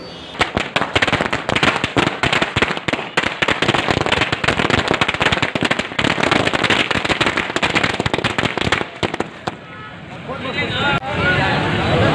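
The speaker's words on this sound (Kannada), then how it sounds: "ಹಲಗೂರಿನಲ್ಲಿ ಸಾರ್ವಜನಿಕರು ಪಟಾಕಿ ಸಿಡಿಸಿ ಸಂಭ್ರಮ ಆಚರಿಸಿದರು" Firecrackers burst in a rapid, dense barrage during a public street celebration in Halagur, the loud cracks overlapping without pause, with crowd voices and chanting mixed in before the popping thins out near the end.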